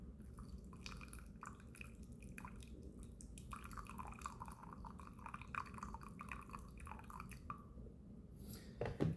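Hot water is poured for ceremonial matcha, about 70 grams in all, trickling and dripping quietly into a bowl with soft liquid splashes, ending in a brief louder splash.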